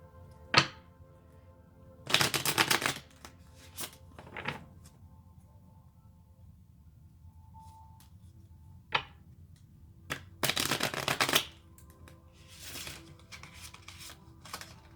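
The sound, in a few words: shuffling a deck of tarot cards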